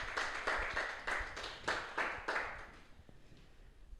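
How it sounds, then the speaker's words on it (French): Applause from an audience at a motivational talk: a burst of clapping that swells in waves for a few seconds, then fades to scattered claps and quiet room noise. "J'aimerais qu'on applaudisse pour cette amie."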